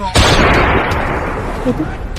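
A sharp gunshot-like blast opens, followed by a sustained rumbling, crackling roar of heavy gunfire that continues loudly throughout.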